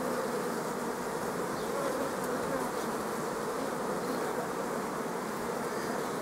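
Honey bees hum steadily inside an opened hive during swarm splitting, a dense, continuous buzz at even loudness with no voices.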